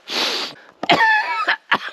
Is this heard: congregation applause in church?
no